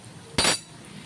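A single clink of a lid set onto a pot of okra cooking in oil, a brief bright metallic tap with a short ring, alone against a quiet kitchen background.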